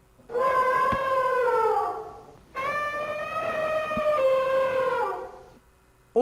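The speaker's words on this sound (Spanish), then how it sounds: "Un elefante está barritando y suena más o menos así." An elephant trumpeting, two long, loud, brassy, strongly pitched blasts of about two seconds each, close and separated by a short pause, with no talking.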